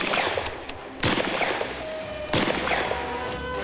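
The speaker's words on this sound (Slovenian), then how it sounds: "Ko je Andrej izpraznil svoj saržer" A shooter empties his magazine during an accuracy-and-speed shooting test, with two sharp, loud gunshots standing out among a few fainter cracks, spaced unevenly over a noisy range background.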